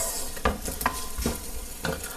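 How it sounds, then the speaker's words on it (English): Paneer toasting with cumin seeds in a hot pan gives a steady sizzle, broken by several sharp stirring scrapes at an uneven rhythm, close and fairly loud with no talking. "you can start hearing the sizzling of the toasting of the paneer"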